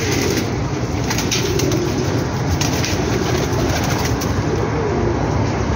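Rampuri pigeons coo in a loft amid a dense, continuous wash of flock noise and wing flutter, close and loud throughout with no talking.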